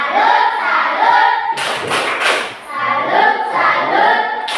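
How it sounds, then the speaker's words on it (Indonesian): A classroom of students performs the rhythmic tepuk salut clap for a student named Justin, with loud, close hand claps and patterned thumps alongside children's voices chanting in time. "Kita beri aplaus untuk Justin. Tepuk salut"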